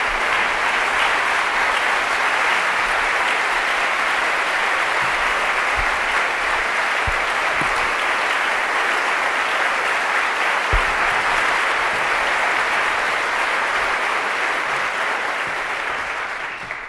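Sustained, even applause from the audience at a Yale lecture welcomes Aung San Suu Kyi, filling the room steadily for several seconds before starting to taper at the end.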